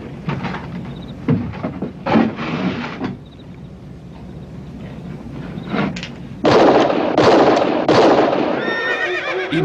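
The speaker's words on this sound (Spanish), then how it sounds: "¡Han sido disparos!" Several sharp bursts of distant gunfire crack out in scattered groups in a Western film scene, with a horse whinnying and hooves shifting nearby.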